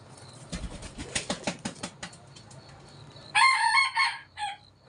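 Young chickens cluck and flap about in an early-morning farmyard, then a rooster lets out a loud, close crow near the end, with scattered bursts of clucking and wing noise beforehand.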